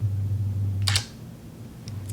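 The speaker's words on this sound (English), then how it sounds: "the sound of the shutter is amazing" A single Fujifilm X-T3 or Sony camera shutter clicks once, crisp and close, over a steady low electrical hum with no talking.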